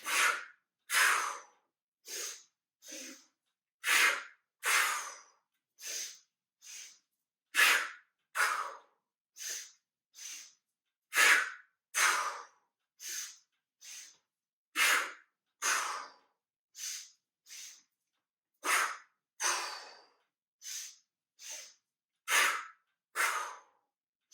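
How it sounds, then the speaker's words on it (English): Two-part yoga breathing, with sharp nasal inhales and open-mouthed exhales repeated in a steady rhythm for about twenty-five close, audible breaths, separated by brief silent gaps. "we're going to inhale in 2 parts through the nose, exhale 2 parts through the mouth"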